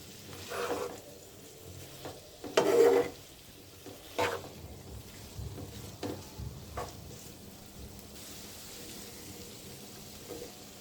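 Egg noodles with chicken and vegetables being stirred and tossed in a hot oiled pan, soft sizzling under scattered scraping and clattering stirs, one louder clack early on.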